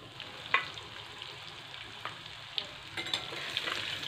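Stuffed bitter gourds fried in a pan with reddened garlic, giving a steady close sizzle with a few sharp pops and stirring clicks, no talking.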